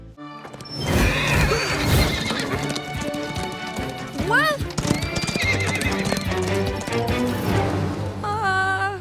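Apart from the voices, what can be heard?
horses neighing and galloping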